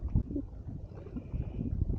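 Wind gusts across the microphone beside the TVA dam in Guntersville, a low, uneven rumble with buffeting bursts and no clear talk.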